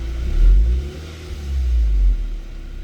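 An Audi A5 2.0T engine revs up from idle to around 2000 RPM twice, a close, loud low rumble that swells, dips briefly, then rises and holds before settling, with no talking.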